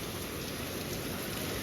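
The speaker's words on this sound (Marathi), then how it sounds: "गाईज बाहेर पाऊस बघा किती पडतोय" Heavy monsoon rain pours steadily outside, a dense, loud, unbroken hiss of drops with no pauses and no voices.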